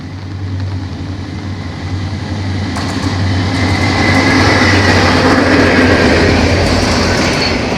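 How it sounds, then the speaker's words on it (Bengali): A train rolls past in the rain outside a village house in rural Bengal, a loud rushing rumble that builds sharply partway through and stays strong and close until it cuts off, with no talking. "এখন গাড়ি গেল, চলে গেল।"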